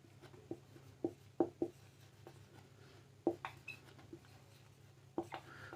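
Marker or chalk strokes writing a question word on a board, a series of short taps and scratches with brief pauses between them, faint against a low background hum.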